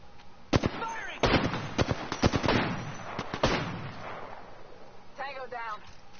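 Gunfire in the video game Apex Legends: several sharp, loud shots in an uneven burst, with a spoken voice heard between and after them.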